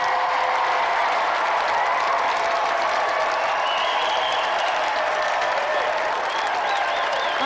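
A studio audience at a video-game show claps steadily and loudly for several seconds, a thick continuous wash of applause with scattered cheers rising toward the end.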